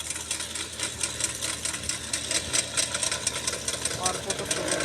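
Motorbike engine in the video game GTA 5, a steady buzzing drone running the whole time, close and fairly loud, with a player's voice talking over it.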